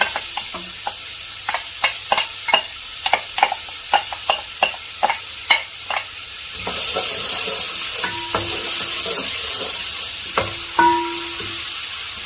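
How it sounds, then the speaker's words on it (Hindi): Chopped onions dropped into hot ghee in a pot: a run of sharp scraping and stirring knocks, then a steady loud sizzle of frying with occasional clinks, no talk. "एक पतीले के अंदर मैंने घी को गर्म कर लिया है, तो इसमें शामिल करूंगा प्याज"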